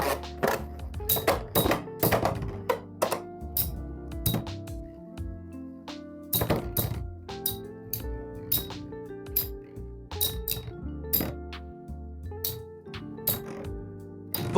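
Beyblade spinning tops clash in a battle stadium, with sharp metallic clinks and rattling impacts coming in rapid bursts separated by brief pauses.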